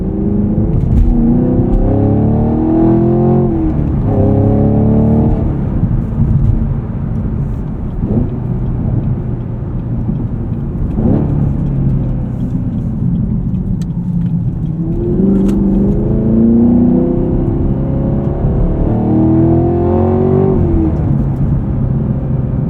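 A 2023 Honda Civic Type R's turbocharged engine accelerates hard in several rising pulls, its tone climbing steadily through each gear before dropping and surging again, loud and close with a steady road rumble underneath.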